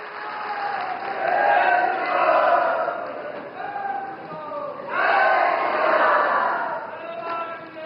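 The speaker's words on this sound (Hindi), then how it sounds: "अब आपकी जोरदार तालियों के साथ में स्वागत कीजिए माननीय मुख्यमंत्री महोदय का" A crowd at a public ceremony in Harsil, Uttarakhand applauding to welcome the Chief Minister, with swelling waves of clapping and cheering that rise, dip and surge again, mixed with loudspeaker-like voices.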